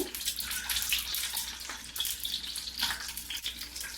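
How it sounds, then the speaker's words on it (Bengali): Eggs frying gently in oil in a pan for egg pulao, a steady soft crackle and hiss with scattered faint pops, close and continuous throughout without speech. "উল্টিয়ে কি ডিম বেজে নেব বেশি লাল করব না হালকা করে বেজে নেব"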